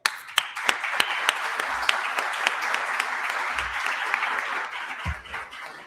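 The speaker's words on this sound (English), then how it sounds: "I'd like you all to give a great round of applause to my good friend and fellow attorney" A conference audience breaks into sustained applause, many hands clapping in a dense, even patter that holds steady before tapering slightly at the end.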